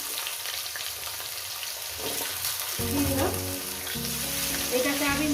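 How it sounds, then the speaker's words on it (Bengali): Steady crackling sizzle of potatoes frying in a pan, with a voice briefly speaking over it partway through. "চার পাঁচ মিনিট ধরে ভেজে নিই"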